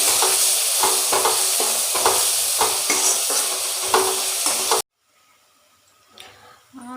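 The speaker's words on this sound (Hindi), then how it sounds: "पियाज को भल भाव फ्राए कर नेबी" Onions fry in a pan on a home stove, giving a loud, continuous sizzle with stirring scrapes. The sound then cuts abruptly to quiet kitchen clatter.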